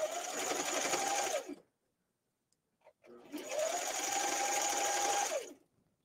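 Sewing machine stitching a hem on knit fabric: two steady, whirring runs of fast stitching, close and loud, separated by a short pause with a few faint clicks.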